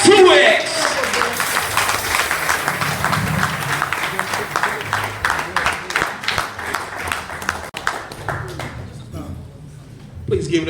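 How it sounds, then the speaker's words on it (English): Audience at a hip-hop show in a Los Angeles café claps and applauds continuously, a crowd-wide patter of hands with a voice talking over it near the start and again at the end. "Y'all start clapping right now."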